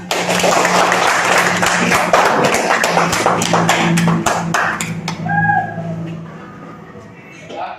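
Classroom applause for a student, a burst of scattered claps in the first five seconds that thins out, with voices and some background noise around it.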